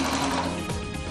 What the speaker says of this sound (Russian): Соединяем все детали и прошиваем их на машинке.